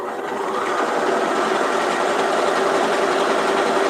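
Sewing machine joining 3.5-inch light blue quilt squares of thin fabric into four-patches, a loud, steady high-speed motor whir with rapid needle chatter running unbroken throughout.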